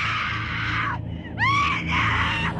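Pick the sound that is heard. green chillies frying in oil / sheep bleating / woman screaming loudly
woman screaming loudly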